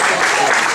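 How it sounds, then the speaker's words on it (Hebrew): Audience clapping at a live parrot show, a dense, steady burst of applause from a crowd filling the whole moment without a break. "בהחלט מגיע יותר רז מחיאות כפיים"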